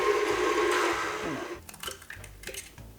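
A whisk or spoon swirls water, yeast and sugar for challah dough in a bowl, a brisk scraping whirl for over a second, then several lighter taps and clinks against the bowl.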